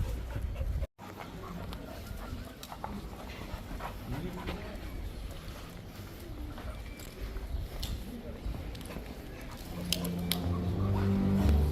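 Tired, thirsty dogs pant steadily after a trip into Le Puy-en-Velay, giving quick breathy huffs close by under a continuous outdoor background, with people talking throughout and the noise growing louder toward the end.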